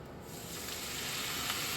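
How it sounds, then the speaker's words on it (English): Ribeye steak sizzles in a hot pan, a steady, close hiss of frying that swells slightly and continues without talk. "That nice sizzle."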